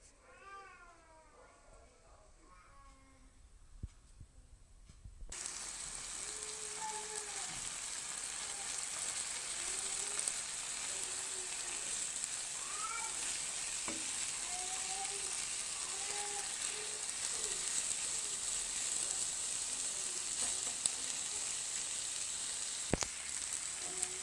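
Grated potato mixture frying in a pan on a Moroccan home stove, a steady, fairly loud sizzle with crackle that starts a few seconds in after a quieter opening.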